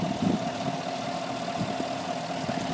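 A 2017 Chevrolet Silverado 1500 High Country 4x4 with a 5.3 liter V8 idles, a steady low engine hum with a faint even pulse, close by and alone.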